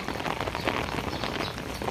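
Steady rain falls on surfaces outdoors, a dense continuous patter of raindrops with no voices.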